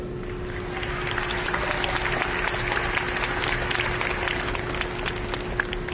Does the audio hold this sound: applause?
yes